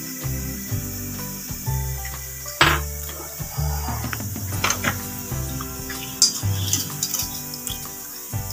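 Ginger and green chilli paste frying in a pan, a steady sizzle and hiss under background music, with occasional clinks and stirring sounds.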